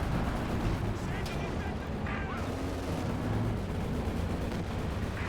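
Heavy artillery from a 150mm gun pounds a position in the World War II strategy game Company of Heroes 2, a dense, continuous rumble of explosions and battle noise filling the whole stretch.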